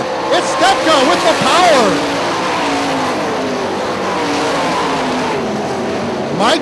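Sprint cars roar around the dirt oval at Hartford Speedway Park, engines whining and rising and falling as they pass close by, with a race announcer talking excitedly over the noise throughout.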